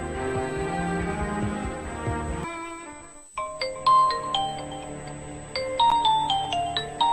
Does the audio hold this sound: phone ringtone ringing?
yes